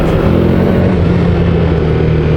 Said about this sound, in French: ça fait un petit moment que j'avais pas sorti la moto pour faire du off-road